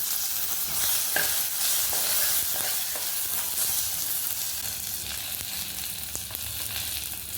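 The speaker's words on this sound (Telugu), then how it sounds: "ఇప్పుడు పప్పుకు పోపు వేస్తున్నానండి శనగపప్పు మినపప్పు మెంతులు ఆవాలు పోపు వేయించి కరివేపాకు కూడా పోపులో వేసి" A tempering of chana dal, urad dal, fenugreek, mustard seeds and curry leaves crackles and sizzles in hot oil, a steady close frying hiss with a few light stirring taps and no speech.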